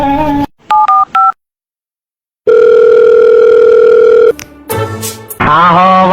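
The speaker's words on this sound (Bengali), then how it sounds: "তুই চালু করে তোর রাকিব কাকারে ফোন দে," Mobile phone call being placed: a short burst of keypad beeps, a pause of silence, then a steady loud ringback tone for about two seconds, followed by further tones and clicks.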